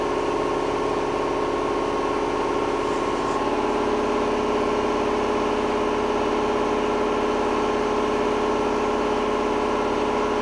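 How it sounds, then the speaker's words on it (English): An air compressor runs steadily in a car body repair workshop, making a constant hum with tonal whine that continues without pause and no talking. "Sorry about the compressor being on,"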